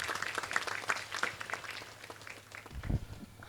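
Scattered applause breaks out for the parish priest at a church feast in Hyderabad, moderately distant and uneven, then fades, with a brief low thump near the end.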